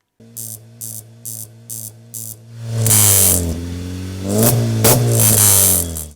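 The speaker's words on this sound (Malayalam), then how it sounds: "നമ്പർ പ്ലേറ്റില്ലാതെ രൂപമാറ്റം വരുത്തി അമിത ശബ്ദമുയർത്തി നിരത്തിലിറക്കിയ വാഹനങ്ങൾ" A modified vehicle with no number plate and an illegally loud altered exhaust, stopped during a motor vehicle enforcement check in Tirur, Kerala, gives short, evenly spaced engine blips, then builds into two long, loud, close revs.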